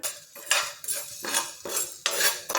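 Coriander, cumin, black pepper and fennel seeds are dry-roasted in a pan, with a spoon scraping and stirring in about five close, rhythmic strokes and brief pauses between them.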